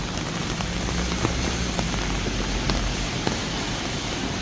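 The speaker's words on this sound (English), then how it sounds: "Pissing the rain after all" Heavy rain pours outdoors during a street encounter in the UK, a dense, constant hiss of drops striking surfaces, with occasional sharper taps standing out, loud and steady throughout with no talk.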